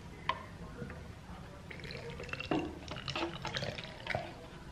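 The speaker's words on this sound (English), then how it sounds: "I'm gonna take a little water and a funnel" Water trickles and drips through a funnel into a tie-dye bottle, faint uneven splashes and drips close by.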